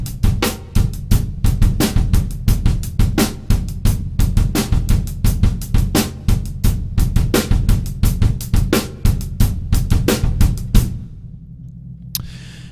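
Drum kit plays a one-bar 4/4 funk coordination pattern built from bass drum combinations, repeated steadily with punchy kick and crisp strokes for about eleven seconds, then stopping and leaving a low ringing tail.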